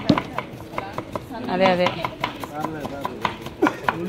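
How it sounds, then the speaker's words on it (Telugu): Knife chopping onions on a board for a large community meal cooked in bulk, rapid close repeated thuds in an uneven rhythm, with people talking over the cutting. "అప్పటికి చాలా వరకు ఆనియన్స్ కటింగ్ చేసాడు అనమాట"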